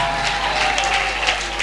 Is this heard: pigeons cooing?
no